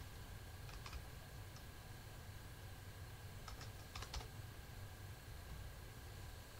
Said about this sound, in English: And we'll type in pest control.